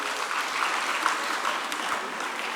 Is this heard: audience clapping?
yes